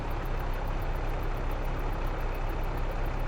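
A tractor engine in Farming Simulator 22 runs at a steady idle, a continuous low droning rumble with no talk over it.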